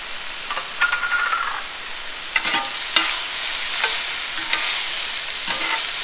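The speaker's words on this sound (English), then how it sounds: "Add our onions." Onions and mushrooms frying in a pan, a continuous bright sizzle and hiss with occasional soft scrapes and taps of a utensil, close and steady with no talking.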